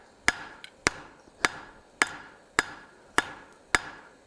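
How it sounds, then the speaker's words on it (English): A hammer forging a steel tip strikes the metal seven times in a steady rhythm about half a second apart, each blow sharp and ringing, close and alone with no talk. "So we're just forging a tip down on this."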